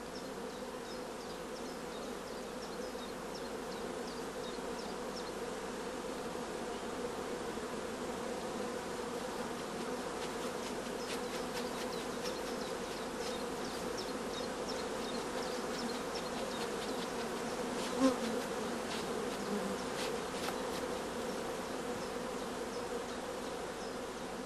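Honey bees around brood comb give a dense, continuous buzzing hum that holds steady throughout, with the swarm sounding close and even in loudness.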